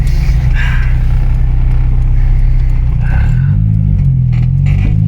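A Honda Civic with an H22 engine, fitted with a limited-slip differential, Exedy clutch and lightened flywheel, pulls away under a loud, steady engine drone whose pitch rises as it accelerates, heard from inside the car.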